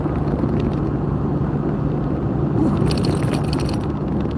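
A press service truck drives past, a steady loud broadband engine and road rumble holding throughout, with brighter hiss swelling in the last second and a half as it draws close.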